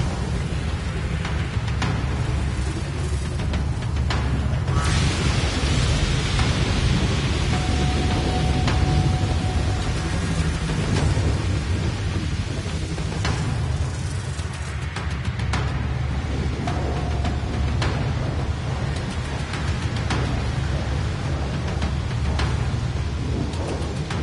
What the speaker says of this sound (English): Storm rolling in. Batten down the hatches.